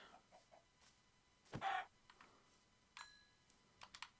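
A baby chicken clucking in Minecraft, a short faint pecking cluck standing out against quiet background with soft scattered clicks around it.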